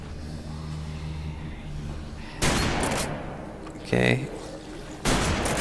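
Gunfire in the video game Deadlight, three loud separate bursts a second or so apart, with a short spoken word heard between them.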